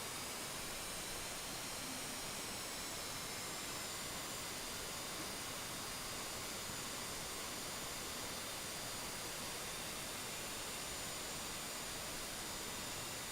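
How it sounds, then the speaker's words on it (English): Aircraft engines at full power in a video game flight simulator give a steady, broad roar with no breaks, faint and distant in the mix and without any talk over it. "I got full power to those engines."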